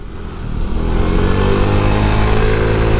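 Yamaha Mio i 125 scooter-style motorcycle on a quick ride, its engine note swelling from a softer start into a steady, loud, buzzing drone with some road and wind rush, close to the rider.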